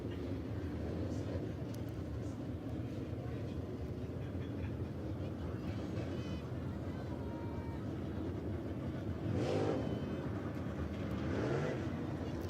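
Dirt late model race cars run on a Southeast dirt oval during a Lucas Oil Late Model Dirt Series event, a steady blended engine roar filling the clip with a louder pass swelling near the end, faint announcer talk underneath.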